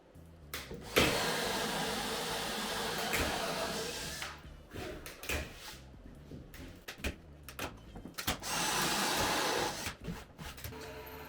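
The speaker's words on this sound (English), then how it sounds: "Meanwhile, Nini created some of those wonderful plugs with our plug drill" A plug drill whirs in bursts, revving up and cutting wooden plugs from wood, then stopping between passes with clatter and handling noises in the quiet gaps.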